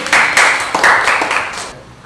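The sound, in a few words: classroom clapping hands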